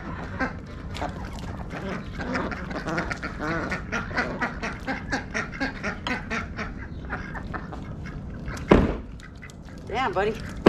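Ducks quack repeatedly in a backyard, a rhythmic series of nearby calls with a louder honk near the end. People talk at times alongside the ducks.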